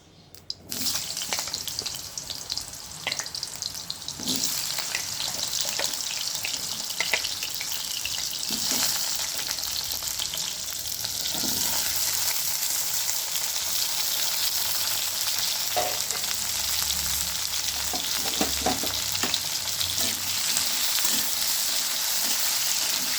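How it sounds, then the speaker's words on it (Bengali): Pumpkin pieces fry in hot oil with a loud, steady sizzle and crackle that runs unbroken throughout, with occasional stirring and scraping sounds but no talking. "দেখুন, তেলটা খুব ভালো করে গরম হয়ে গেছে। এবার প্রথমে আমি কুমড়োগুলো দিয়ে দেবো।"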